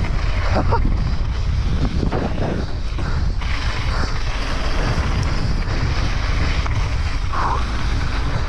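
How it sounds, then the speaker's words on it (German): Strong wind buffets the microphone in a steady, loud roar while riding a mountain bike down a new flow trail, with bursts of rushing noise throughout and brief speech mixed in. "Boah, der Wind!"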